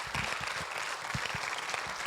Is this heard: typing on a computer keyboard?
no